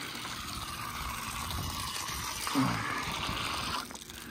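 Steady running water pours continuously with a broadband hiss, a brief louder splash partway through, then settling slightly quieter near the end.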